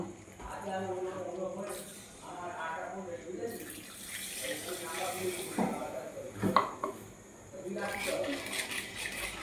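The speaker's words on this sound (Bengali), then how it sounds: "এখন আমি 1 মগ দুধ ঢেলে দেব।" A mug of milk poured into melted sugar with ghee for sooji halwa, a soft bubbling sizzle and liquid gurgle with clinks of utensils, under someone speaking.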